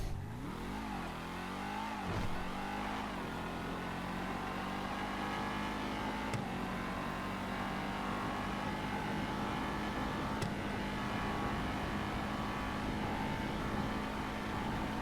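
Rapid GT sports car in GTA 5 accelerating hard, a steady loud engine roar climbing through gears with brief shift breaks early on, then holding a high sustained drone.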